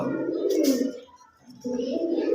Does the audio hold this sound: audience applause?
no